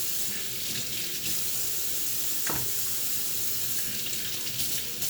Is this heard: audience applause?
no